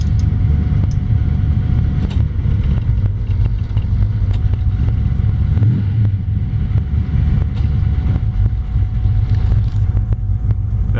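A 1955 Chevy 210 resto-mod with a 427 engine drives at low speed, its deep rumbling exhaust loud and close from inside the car, with a steady drone, slight swells of throttle and wind noise.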